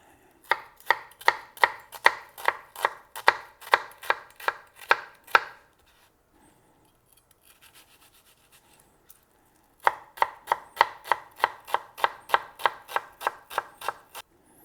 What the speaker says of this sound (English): And now for the onion, we just want it finely chopped.